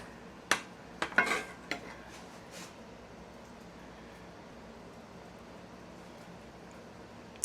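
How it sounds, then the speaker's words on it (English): Spoon clinks against a dish while sauce goes onto a meatball parm sub: a few sharp metallic taps and scrapes early on, then near-silence. "All right, let's add some sauce."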